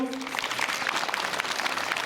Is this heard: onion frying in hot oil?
no